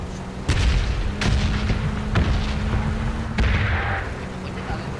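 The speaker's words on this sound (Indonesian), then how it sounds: "Ada yang nembak gua lagi enggak?" Gunshots in PUBG, several sharp loud reports spaced a second or so apart over steady background noise, with someone talking in the mix.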